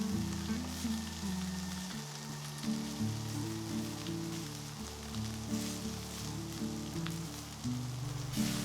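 Boiled banana stem and dried prawns are stir-fried in a pan with a steady, soft sizzle and crackle that continues throughout, heard beneath background music.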